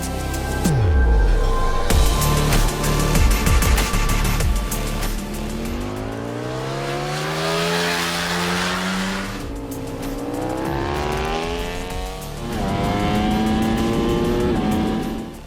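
A 2020 Ducati Panigale V4 S superbike on the Bahrain racetrack, its engine revving hard through rising and falling gear changes, loud and close, with a sustained high-rpm wail and brief downshift blips.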